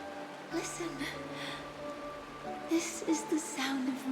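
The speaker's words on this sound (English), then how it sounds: "This is the sound of rain." Rain falling in a scene from the video game Honkai: Star Rail, a soft continuous patter under a faint musical tone, with scattered voices and quiet rustling layered on top.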